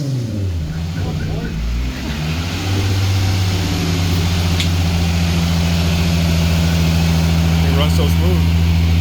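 A Volkswagen VR6 Cabrio engine idles steadily with a low, even hum that settles into a smooth drone, with faint background noises.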